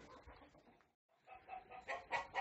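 Hens clucking in a backyard coop, Marans among them, a run of short, rising clucks that grow louder toward the end after a brief pause.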